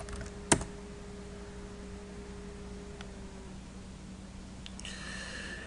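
A computer keyboard clicks in a quiet room: one sharp keystroke followed by a few faint taps, over a low steady hum.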